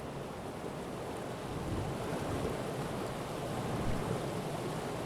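A waterfall pours steadily in the video game Abiotic Factor, a dense continuous rushing roar of water holding even and loud throughout with no voices over it.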